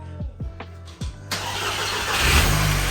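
A VW MK6 Golf R with 290K miles and a newly replaced cam follower cranks through several quick starter whirs, then catches and fires into a loud, steady idle close by.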